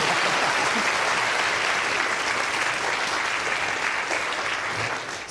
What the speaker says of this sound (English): And a big round of applause for George, please.